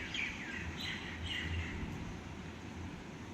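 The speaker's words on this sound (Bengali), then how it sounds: "সকাল সকাল পাখির একদম আওয়াজ।" Birds chirp and tweet around a home at about 5:30 on a Sunday morning, a continuous overlapping chorus of high calls held at moderate distance above a low steady background hum.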